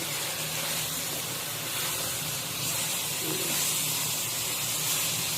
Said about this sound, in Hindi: चिकन को थोड़ा भून लेंगे हम प्याज के साथ